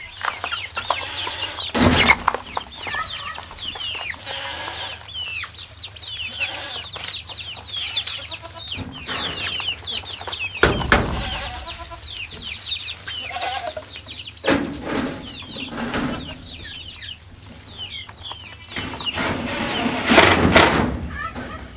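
Chickens cluck and chatter close by around a feeder on a farm, a busy continuous flock sound with occasional louder knocks and rustles, and a person talks briefly among them.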